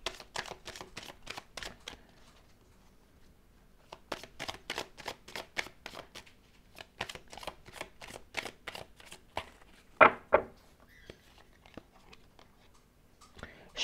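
A deck of playing cards being shuffled in repeated quick riffling bursts, close and crisp, with short pauses between runs and a louder snap near the end as a card is drawn.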